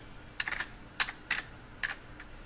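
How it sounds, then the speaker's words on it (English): Fingers tap out a web address on a computer keyboard, with four or five short, close clusters of keystrokes spread over a couple of seconds against faint room noise, and no one speaking. "We can then type in the address for Google's homepage"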